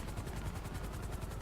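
A helicopter in the video game GTA 5 whirs with a steady, fast rotor chop throughout, loud and close, with no voices over it.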